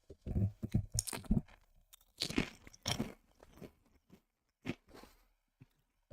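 Crunchy food chewed close to a microphone, a run of crisp, irregular bites and crunches in bursts with short pauses between them, loud and near.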